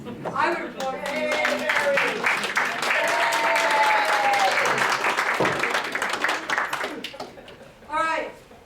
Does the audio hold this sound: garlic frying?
no